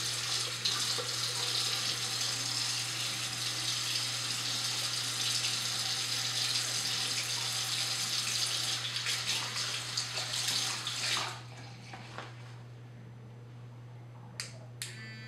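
Tap water runs steadily to wet a facial cleansing sponge for a vibrating exfoliation system, a continuous broadband rush up close that cuts off near the end, leaving a few faint clicks and handling noises.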